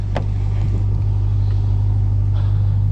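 A RAM 1500 TRX pickup's 702-horsepower V8 engine idles close by, a deep, steady rumble holding constant throughout with no speech.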